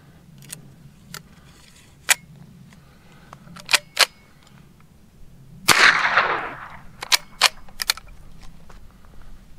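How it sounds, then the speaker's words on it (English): A rifle fires a single round of .22 LR bird and snake shotshell at an outdoor range, a sharp loud crack with a short burst of noise, set among scattered clicks and handling knocks. "let's fire 1 round at 12 feet"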